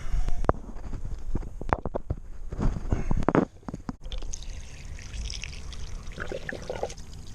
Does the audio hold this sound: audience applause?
no